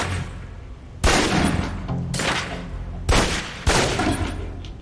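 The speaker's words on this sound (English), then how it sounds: "Equip the pistol, then aim down range and take some shots at the target" Pistol fire at a target on a shooting range in the video game Alpha Protocol, heard as three sharp, loud shots spaced about a second apart, each with a reverberant tail over steady game ambience and no talk.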